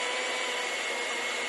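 A blender whirs steadily, mixing clay dug from a backyard with water and polymers, a continuous loud motor drone heard alone with no talk.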